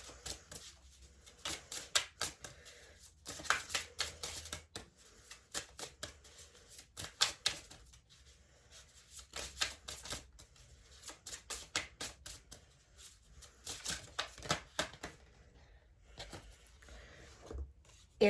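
Tarot cards being shuffled by hand, quiet riffling and flicking in irregular bursts with brief pauses between, close and soft.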